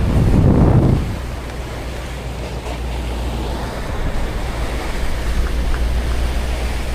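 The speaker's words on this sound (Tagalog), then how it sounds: "Namumuti-muti ang ibabaw ng karagatan dahil medyo may kalakasan." Pacific Ocean swells capped with whitecaps in fairly strong wind, heard from a moving boat: a loud burst of rushing water and wind at the start settles into a steady broadband roar with a low engine-like rumble underneath.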